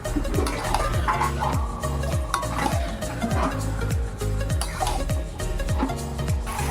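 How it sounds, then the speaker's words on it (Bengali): Meat is stirred into a fried spice paste in a pan, giving a steady run of scraping strokes and soft sizzling over a dense cooking bed, with no talk. "এবার মাংসটাকে ঢেলে দেবো। তো চলো, এবার এটার সাথে এটাকে ভালো করে মিশিয়ে দেবো।"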